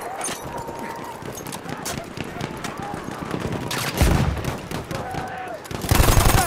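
Machine gun fire from the enemy side in the World War I shooter Battlefield 1, a dense, continuous rattle of shots mixed with other battlefield gunfire and loud bursts, with voices calling out over the noise.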